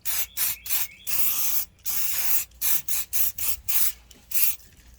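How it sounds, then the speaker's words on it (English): Waterproof coating sprayed onto a 6.5-inch rear speaker for a Kawasaki Voyager, heard as close, loud hissing aerosol bursts in a stop-start rhythm of about a dozen short and longer blasts, with no talking. "we'll just spray it down real good and let it dry, and that should give a pretty good waterproof coating"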